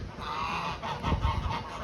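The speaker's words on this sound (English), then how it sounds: "that's the gray goose" A gray goose honks in a steady, dense run of calls, close and loud, with no talk over them.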